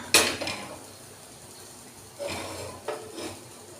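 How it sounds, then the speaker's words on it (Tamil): Metal cookware clanks on a kitchen stovetop as a pressure cooker is shifted to the next burner and a kadai pan is set down, three short clattering knocks with quiet gaps between, close and fairly loud. "இப்போ வந்து நம்ம இந்த குக்கரை வந்து பக்கத்து அடுப்புக்கு மாற்றிக்கலாம் இன்னொரு கடாயை அடுப்பில் வச்சுட்டு"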